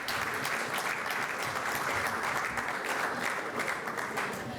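An audience at a business and investment forum breaks into sustained, even applause for the panelists, clapping loudly and continuously without pause.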